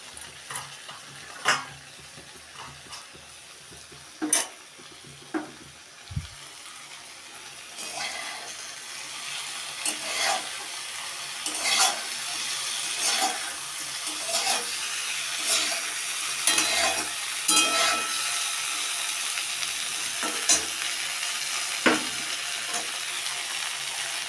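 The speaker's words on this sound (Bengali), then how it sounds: "এই আলু ভাজা দিনের ছিল, এটাও একসঙ্গে নেড়ে নেব একটু" Fried potatoes being stirred in a sizzling pan, with repeated scraping clicks of a utensil over a continuous frying hiss, fairly close and clear.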